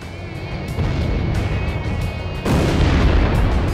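In the Ace Combat video game an unguided UGB bomb strikes an enemy, producing a loud, sustained low rumbling blast over steady engine drone, with the roar swelling harder partway through.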